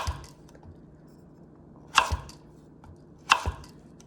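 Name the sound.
chopping food on a cutting board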